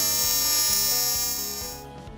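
Aluminum bicycle frame joints being TIG welded on a bench with 5356 alloy filler rod, a steady high electric buzz with a faint rhythmic pulsing that cuts off near the end.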